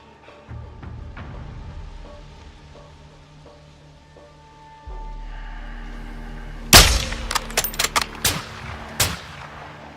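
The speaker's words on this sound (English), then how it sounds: "Take out 2 in 1 shot." Sniper rifle shots in Modern Warfare 2 ring out as one loud crack followed by a run of sharper, close reports, after a quiet stretch and a low rumble.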